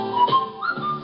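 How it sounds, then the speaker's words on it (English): A person whistles a few clear notes of a tune, a short, close, loud melodic phrase with no talking. "I did the little whistle song"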